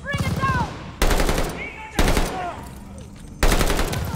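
Machine gun fire in the video game Call of Duty Vanguard, loud bursts that start abruptly and cut between short stretches of game sound and voice.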